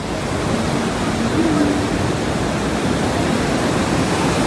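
Water rushes loudly and steadily at a scenic outdoor riverside or waterfall spot, a dense, unbroken roar close by that fills the whole stretch with no pauses.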